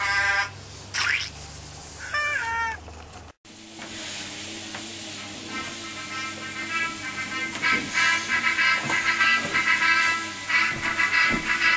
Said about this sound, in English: Hey, look, a kitty.